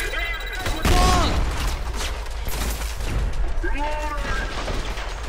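Gunfire in the shooter game Trepang 2, bursts of loud shots and impacts clustered at the start and again near the end, over a steady rumble with a voice speaking briefly between.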